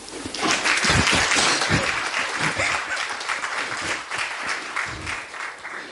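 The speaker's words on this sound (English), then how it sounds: "Please give him a round of applause" An audience applauds a guest researcher, Professor Richard Bartle, at a talk, with dense, loud clapping that fills the room, swells early and then eases slightly while holding steady to the end.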